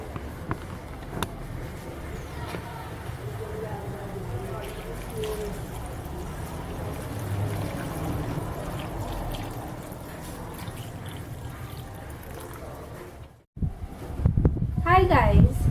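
Water runs steadily into a homemade pineapple drink in a continuous, moderately loud pour, broken by a short silence and a few sharp knocks near the end.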